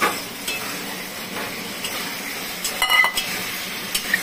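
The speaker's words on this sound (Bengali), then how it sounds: "এখন গ্যাসটা বাড়িয়ে দিয়ে কষাবো।" Boiled potatoes and gathi kochu (taro) stirred and sautéed in a pan over raised heat, a steady sizzle broken by scraping spoon strokes and a few clinks against the metal, close and moderately loud with no talking.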